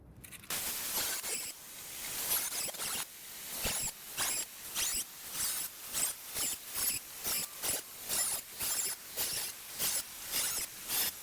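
Cutting rear fender flares on a BMW E36 makes a rapid series of repeated rasping, scraping strokes in an even rhythm, close and moderately quiet, with no one talking.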